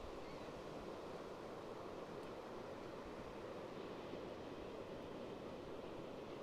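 Ocean surf at Pawleys Island beach, a steady, faint wash of breaking waves and wind noise with no distinct individual crashes, continuous throughout.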